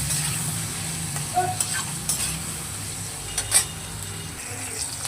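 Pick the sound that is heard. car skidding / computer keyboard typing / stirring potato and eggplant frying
stirring potato and eggplant frying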